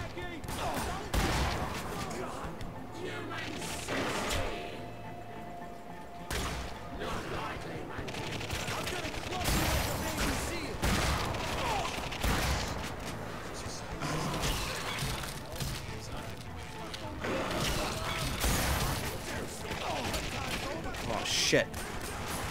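Rapid gunfire from The Darkness 2, with repeated sharp bursts and volleys crackling throughout, mixed with crashes, while someone talks over the shooting.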